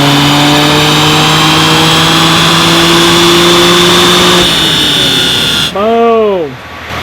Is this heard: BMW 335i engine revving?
yes